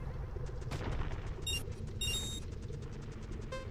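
Rocks shatter in a video game as a few short, crisp crunching effects with bright chiming tones, spaced apart over a steady low background hum.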